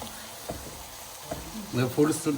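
Sliced onions fry and are stirred in oil over full flame for a chicken roast, a soft steady sizzle with light stirring scrapes, and a voice briefly joins near the end.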